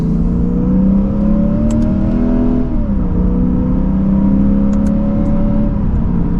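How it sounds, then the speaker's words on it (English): A 2024 Lexus IS500 F Sport V8 pulls hard in second gear, its engine note climbing steadily in a loud, continuous drone, dipping briefly at a shift before rising again, heard from inside the car. "you can't get over how that V8 sounds in this car"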